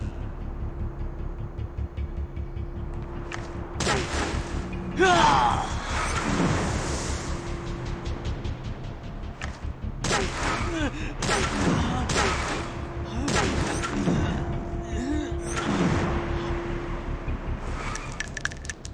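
Gunshots crack out in the Dragon Raja mobile MMORPG trailer, several sharp bursts scattered over a droning engine-like background, with loud impacts and whooshes while people speak intermittently.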